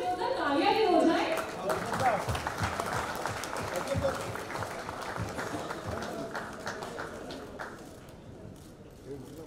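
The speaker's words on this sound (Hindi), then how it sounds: "एक बार जोरदार तालियां भी हो जाए." An audience bursts into loud applause that gradually fades over several seconds, with voices mixed in underneath.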